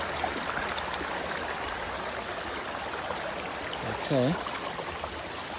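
A stream of flowing water rushes steadily at night while people cross a slippery, crazy area, a continuous low wash with brief speech over it.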